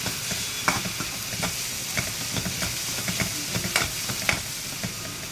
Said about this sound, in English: Now you're going to fry this really well.